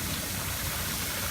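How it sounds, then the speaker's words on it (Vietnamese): A backyard rock-garden waterfall and stream runs steadily, giving a continuous, even rush of flowing water close by with no pauses or other sounds. "Suối nước chảy của mình đã hoạt động rồi đây."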